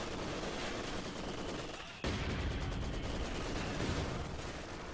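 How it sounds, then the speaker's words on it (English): Mortar fire from both sides in a video game: a dense, continuous rumble of booming impacts and crackling gunfire, with a sharp louder burst midway that keeps the barrage heavy and sustained. "Mortars from both sides"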